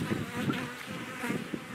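A settling honey bee swarm gives off a soft, continuous, wavering buzz, faint and somewhat distant, with no voices.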